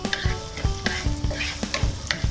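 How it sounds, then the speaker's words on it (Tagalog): Garlic sizzles steadily in hot oil while a utensil stirs and scrapes the pan in a loose repeating rhythm, close up, with no voices. "Antayin natin kumulo yung mantika. Saka natin ilalagay yung garlic."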